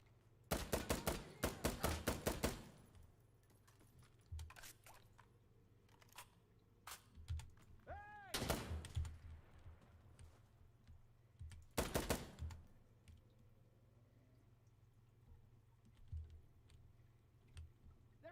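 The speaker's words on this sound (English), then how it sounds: "Just putting rounds at the building" Bursts of gunfire from a round-firing weapon aimed at a building in Insurgency Sandstorm, rapid cracks in clusters early, midway and later, with quieter ambient stretches between.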